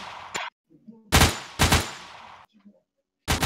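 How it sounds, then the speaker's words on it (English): Bursts of automatic gunfire from a first-person shooter game crack out in several short, loud volleys separated by brief silences and faint clicks. "Every time I shoot, it's like I gotta reload."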